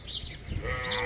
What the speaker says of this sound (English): This lamb here is just hanging out with Katie.